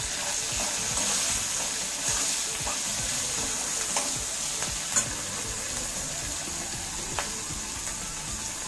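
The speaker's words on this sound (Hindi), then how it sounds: "मिर्चा भाजून घ्या आणि मिरची भाजताना ठसका येणार नाही म्हणून थोडं मीठ पण घाला" Green chilies roast with salt in a pan, a steady, close sizzle with frequent stirring scrapes and occasional sharp crackles, carrying on without pause.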